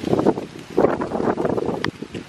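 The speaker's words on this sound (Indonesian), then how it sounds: "Duh, angin sontoloyo nih lagi." Wind gusting outdoors while someone climbs a cherry tree to harvest fruit, a broad rushing and buffeting noise against the microphone with rustling, swelling and easing in uneven gusts.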